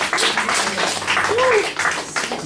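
Church congregation clapping in acclamation during a worship service, a brisk rhythmic patter of many hands mixed with singing and voices throughout.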